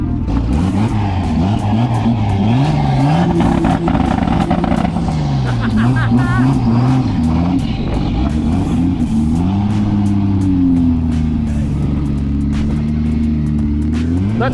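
An engine revs loudly and continuously up close after an automatic transmission gearbox repair, its pitch climbing and falling through repeated throttle blips, with people talking faintly nearby.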